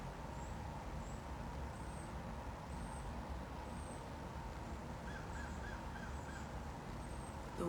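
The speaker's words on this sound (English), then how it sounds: "the crows cawing," Crows caw faintly in the distance several times along a wooded walking trail, sparse calls over a steady low outdoor hiss.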